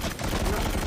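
Dense, loud rapid gunfire rattles without a break through a brief moment of a Venom video game.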